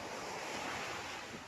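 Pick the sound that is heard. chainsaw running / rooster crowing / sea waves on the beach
sea waves on the beach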